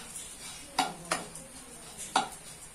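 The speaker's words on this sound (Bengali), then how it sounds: "মুগ ডালটা ভালো করে ধুয়ে নিয়ে এটা কড়াই দিয়ে দিলাম। এটাকে ভালো করে ভেজে নেব" Moong dal dry roasting in a kadai, with a few sharp spoon scrapes and clinks against the pan over a faint background hiss; no one speaks.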